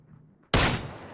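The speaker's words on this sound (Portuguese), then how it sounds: "Errei meu tiro." Single loud gunshot in the battle royale video game PUBG, a sharp sudden blast that decays over about half a second, heard alone against quiet background.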